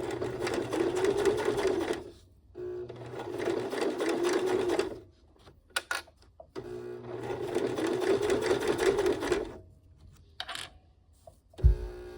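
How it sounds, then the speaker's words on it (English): A sewing machine runs in two long bursts of basting stitches along the seams of a fabric getaway sling, pausing between runs with brief clicks and a louder knock near the end. "So we are going to baste right along where our stitches are."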